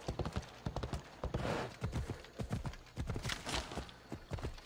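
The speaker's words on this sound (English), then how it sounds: "We'll just park our horse next to this one so he can eat and get some food and water." Horse in Assassin's Creed, repeated close hoof clip-clops in an uneven walking rhythm, fairly clear and steady throughout, with no whinny evident and no talk.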